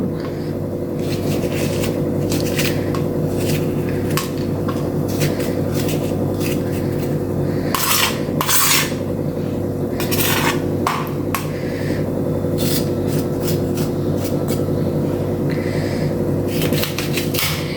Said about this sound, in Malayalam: നമുക്ക് കത്തി വെച്ച് ചെറുതായിട്ട് അരിഞ്ഞെടുക്കാം.